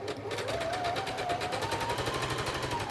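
A sewing machine stitches an armhole facing with a fast, even mechanical rattle, running steadily at close range with no pauses.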